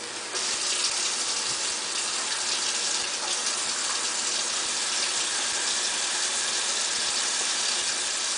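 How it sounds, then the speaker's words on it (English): Hot water runs steadily from a kitchen tap, a constant close gushing stream from start to finish with no voices. "So let me get the hot water going."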